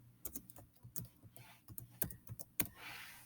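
Quiet typing on a computer keyboard, a quick irregular run of soft key clicks with a few louder taps, close and faint, with no talking.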